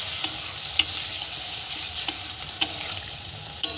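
Rohu fish curry spice paste sizzles in a pan after a splash of water, with sharp, irregular scrapes and clacks of a spatula stirring over the steady frying hiss.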